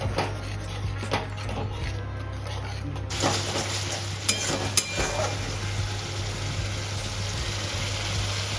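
Spice paste for a Bengali aar fish kalia curry sizzles and fries in a pan while a spoon stirs and scrapes it, with occasional sharp clinks against the pan over a continuous frying hiss.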